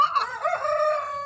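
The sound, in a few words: rooster crowing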